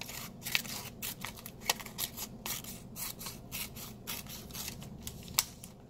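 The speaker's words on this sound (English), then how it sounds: "So you're going to need some scissors. So you're cutting these sentences out." Scissors snipping printed sentence strips out of a paper worksheet, a string of sharp crisp clicks and rustles at irregular intervals, close by and fairly quiet, with no talking.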